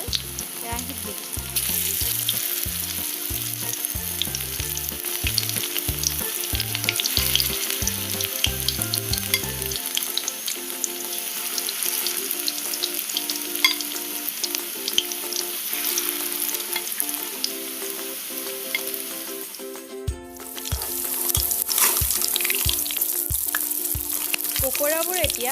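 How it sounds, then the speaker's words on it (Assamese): Pakoras made with shuklati fry in oil in a kadai, a loud, dense sizzle that stays close and constant, with a low rhythmic thumping underneath at the start and again near the end. "পকৰাবোৰ এতিয়া এটা এটাকৈ লুটিয়াই দিম আৰু কিছু সময় কম জুইতে ভাজিম।"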